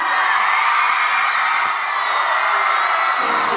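A large, loud crowd cheering and screaming continuously at a live show in Montreal, Canada, dense excited roar with whoops, steady throughout.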